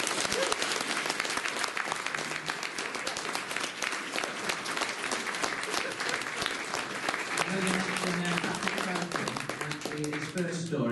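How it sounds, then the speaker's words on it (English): A convention audience at a Doctor Who Q&A applauds, a sustained and even burst of many hands clapping across the whole stretch, with voices mixed in near the end. "let's just give Doctor Who a round of applause"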